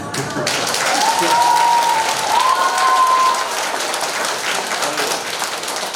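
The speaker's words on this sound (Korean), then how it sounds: "요 정도 박수 소리 가지고는 제가 출마하기가 조금 어렵거든요." Steady applause from a crowd at an anniversary ceremony speech fills the whole stretch, dense and even, with a faint tonal sound briefly rising above it.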